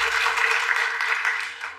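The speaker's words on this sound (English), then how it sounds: "Clap if you know her." Audience clapping in a talk-show studio: a brief, steady burst of applause from a crowd, moderately loud and fading slightly at the end.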